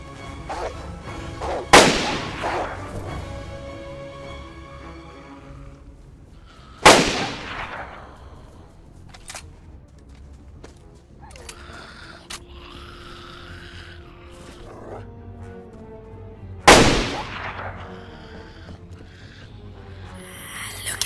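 Heavy weapon fire in the game DayZ: three loud, booming single blasts spaced several seconds apart, each with a long decaying tail, over quieter ambient noise between shots.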